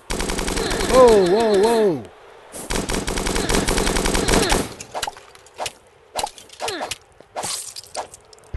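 Soldiers open fire in Starbound: bursts of rapid machine-gun shots, with a warbling electronic tone early on and scattered single shots and plops later. A voice gives a brief exclamation.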